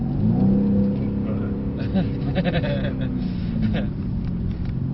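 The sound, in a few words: Mercedes C63s engine accelerating on track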